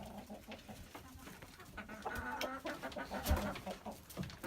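Chickens cluck and murmur steadily inside a farm chicken coop, several birds overlapping at moderate distance with a low background hum and no voices.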